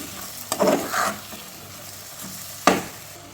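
Ground spices are stirred into hot oil in a pan, with a soft sizzle under a few sharp scraping strokes of a spoon, one near the start and one toward the end.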